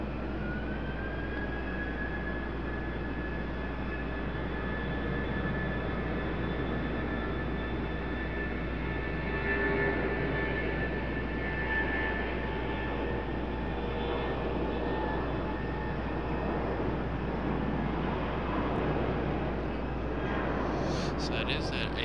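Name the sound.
Embraer jet airplane at RDU runway 5 left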